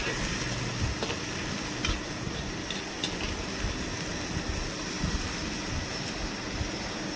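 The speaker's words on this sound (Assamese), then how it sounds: "বঢ়িয়াকৈ লাৰি দি আছে এই আদা নহৰুখিনি" Ginger-garlic paste frying in a pan while being stirred, giving a steady, close sizzle with light scraping and clinks throughout.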